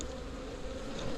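Honey bees buzz in a steady, close drone during a March hive inspection, a dense continuous hum with no talking.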